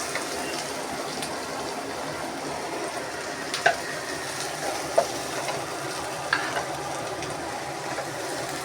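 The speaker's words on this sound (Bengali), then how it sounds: "পেঁয়াজটা ভাজতে ভাজতে জালটা কমানো ছিল।" Onions fry in oil with black cumin seeds, producing a continuous close sizzle with occasional sharp clinks of a utensil stirring against the pan.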